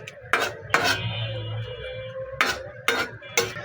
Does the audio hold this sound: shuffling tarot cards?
no